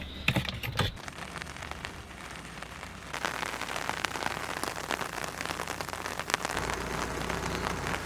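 Rain patters steadily on a surface outdoors at an off-grid property, a dense crackling wash of drops that thickens after the first few seconds, with a brief muffled knock near the start.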